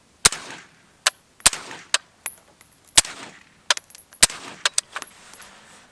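Rifle shots through a 3D printed Radical Firearms Sinter suppressor, fired into dirt outdoors: about a dozen sharp, fairly loud cracks, some spaced a second apart and others in quicker bursts, each with a short tail.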